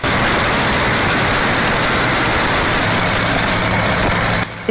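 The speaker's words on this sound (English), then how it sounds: "The engine sound is like a deep, low rumble that resonates through your entire body." A 16-cylinder, 3,000-horsepower locomotive diesel engine rumbles in a loud, dense, unbroken roar close by, cutting off abruptly just before the end.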